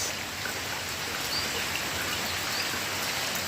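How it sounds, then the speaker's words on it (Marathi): Steady rain falling, an even close hiss of drops on surfaces that continues without a break. "पहाटेपासून पुन्हा सुरुवात झाली पावसाला आणि अजूनपर्यंत चालूच आहे पाऊस"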